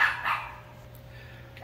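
A dog's short barks outdoors near a backyard pool: one or two brief yelps at the start and another starting at the end, fairly distant over a low steady hum.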